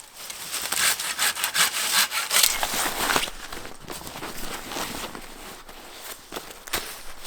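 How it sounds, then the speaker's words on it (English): Dead lower branches are sawn off a tree for firewood at a rainy backcountry campsite, with a steady scraping, rasping rhythm of wood cutting close by, easing slightly toward the end. "First, I'm gonna take down all the dead under branches from this tree."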